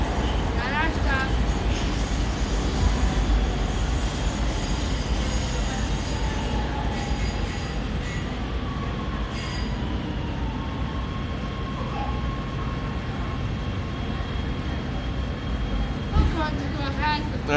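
An LA Metro subway train brakes to a stop at a station, a steady loud rumble of wheels and car noise with high squeals near the end, while people talk over it.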